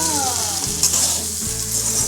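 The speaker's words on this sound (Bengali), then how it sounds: "এবার একটু নেড়ে আবার ঢেলে দিচ্ছি।" Chicken curry (chicken kosha) fries in a pan while being stirred, a close, continuous loud sizzle with a low steady hum beneath it.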